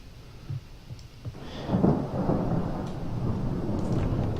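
Rain and rolling thunder in the zombie survival game Project Zomboid, a low rumble building after a couple of soft thumps into a steady, loud downpour that fills the rest of the stretch with no talk.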